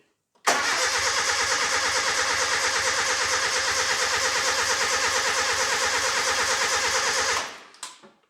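A Nissan 910 Bluebird wagon engine cranks steadily and loudly for about seven seconds with a rapid rhythmic chugging, never catching, then cuts off abruptly.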